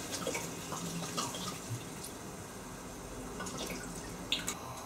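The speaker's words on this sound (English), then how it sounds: "It's a bottle of red wine, so just pour the wine in." Red wine pours steadily from a bottle into a pan close by, a soft continuous trickle with occasional small splashes and drips.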